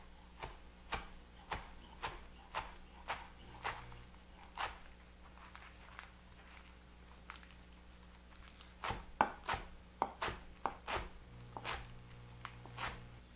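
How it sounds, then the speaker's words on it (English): A knife chops lacinato kale into thin ribbons on a cutting board, producing a steady series of crisp, close thuds, about one a second, with a quicker run of cuts toward the end. "I'm just going to chop it into thin ribbons"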